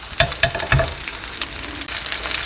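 Pollock fish pancakes fry in oil in a pan with a close, steady sizzle, broken by a few sharp taps and scrapes as the pan is shaken.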